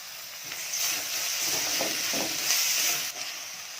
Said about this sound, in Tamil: தக்காளி கொஞ்சம் நேரம் நல்லா வதங்கட்டும்